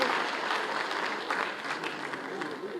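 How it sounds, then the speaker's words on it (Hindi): A large crowd at a government public event in Madhya Pradesh applauds loudly for the chief minister, producing a continuous, even wash of clapping from a hall or open ground that holds steady throughout. "जोरदार तालियों से उनका"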